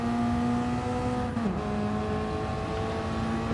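Racing cars roar down the start straight in a sprint race, a steady high engine drone with a clear gear shift midway, then sustained tone, loud and continuous without voices.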